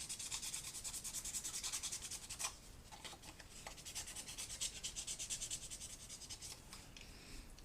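Sandpaper rubbed over a hand-carved wooden salmon in steady, quick back-and-forth strokes, close but soft, with a brief pause midway and no talking.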